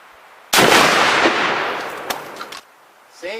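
A .50 caliber BMG rifle fires at a cabinetry panel on a range, one very loud, sharp blast with a long booming decay, followed by a second crisp crack and then the roar fading out.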